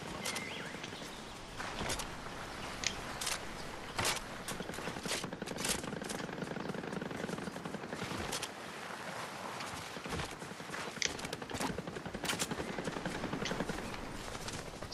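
Light machine gun firing rapidly in Fortnite, a dense continuous stream of fast shots running the whole stretch amid other game noise and sharp cracks.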